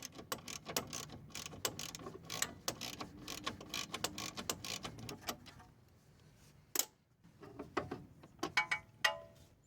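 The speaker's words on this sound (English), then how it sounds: "And I tighten that bottom bolt." Ratchet tightening the bottom bolt of a shock absorber, a quiet run of rapid clicking strokes with brief pauses and a few sharper metallic knocks near the end.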